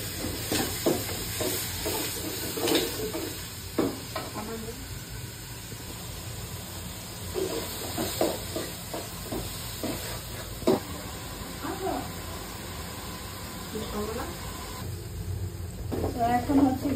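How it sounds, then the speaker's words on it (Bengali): Onions frying in oil in a pan give a soft, steady sizzle, punctuated by scattered clatters and scrapes of stirring, with faint background sounds. "আমরা তেল দিয়ে পেঁয়াজগুলো একটু ভাজা ভাজা করে নিব"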